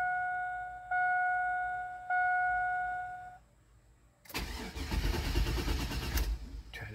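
Chime tones sound first, then a 2002 Chevrolet Suburban engine cranks loudly on a start attempt, a dense churning burst that carries on to the end of the short clip.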